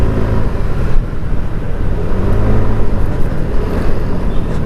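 Dense rush-hour road traffic rumbles around a rider on a Kawasaki Ninja 150 RR, a steady loud broadband roar of engines and wind with no talking.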